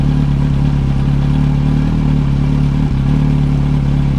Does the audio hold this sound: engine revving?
yes